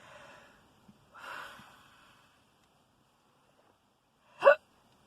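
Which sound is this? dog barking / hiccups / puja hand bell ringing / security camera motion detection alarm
hiccups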